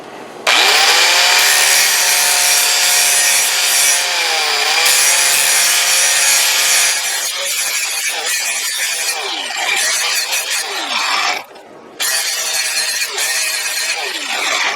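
A SporGain sharpener grinds a lawn mower blade outdoors, a loud continuous whining abrasive rasp with shifting pitch, briefly dropping out near the end before resuming.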